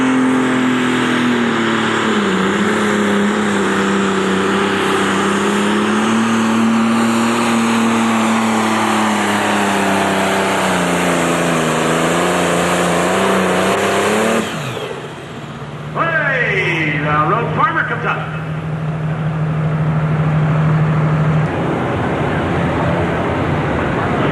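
Pro stock tractor roaring down the pulling track at a 1992 state fair tractor pull, a loud sustained engine howl with shifting pitch, then a brief drop and renewed revving near the end.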